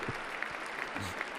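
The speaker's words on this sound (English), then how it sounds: "And that they clap away." An audience at a Trump speech applauds, a brief patter of clapping heard faintly behind background noise, lasting just over a second.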